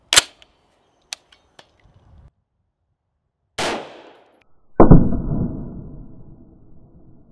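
A rifle with a 10.5 inch barrel fires regular 55 grain ball ammunition at a level III armor plate outdoors: a sharp crack, a few faint ticks, a second loud shot, then a booming report that decays slowly. No voices.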